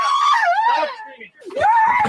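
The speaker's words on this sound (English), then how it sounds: "Stop screaming." A woman lets out a loud, high, wavering scream lasting about a second, breaks off briefly, then screams again, close and piercing during a confrontation with police.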